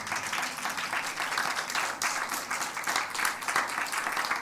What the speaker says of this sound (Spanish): ¿Le podremos dar un aplauso fuerte al Señor?